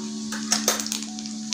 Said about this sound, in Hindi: जीरा चटक गया है